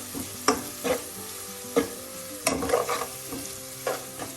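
Onions sautéing with salt in a pan for a fish curry, a gentle sizzle broken by repeated spatula stirs and scrapes at an uneven rhythm, close and fairly quiet, with no voices.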